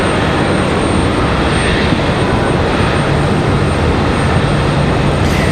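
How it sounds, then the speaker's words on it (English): An American Airlines Airbus A319 arriving at stormy Raleigh-Durham airport gives a loud, steady broadband roar that holds evenly throughout, with no voices. "That is American Airlines 3262 coming in from Washington, D.C. via Reagan"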